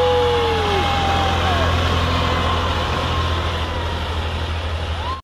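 A large motorhome pulls away at a campground, its engine giving a deep, steady rumble close by, with a voice calling out briefly over the noise.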